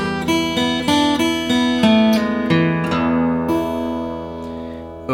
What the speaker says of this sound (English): we're starting off with this classic blues train whistle sound